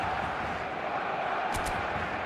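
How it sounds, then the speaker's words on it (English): Steady stadium crowd roar from an eFootball match fills the whole stretch, a dense wash of distant voices with no single clear cheer, continuous and moderately loud. "The stadium is full of noise and energy."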